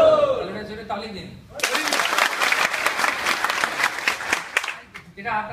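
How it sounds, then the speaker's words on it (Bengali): Audience at a spiritual lecture breaks into loud sustained applause after a speaker's voice, the clapping running for about three seconds before tapering off, with talk resuming at the end. "জোরে তালি দিন।"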